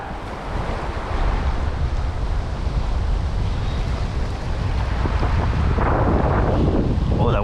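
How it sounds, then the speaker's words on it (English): Strong wind gusting at a riverbank during night salmon fishing, a continuous loud rushing roar buffeting the microphone, with rustling swelling toward the end. "Oh, the wind's lovely."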